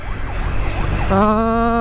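Ambulance siren on an escorted ambulance on the road between Bukittinggi and Padang: a faint wavering wail under traffic noise, then a loud, close, steady electronic tone that blares over road rumble.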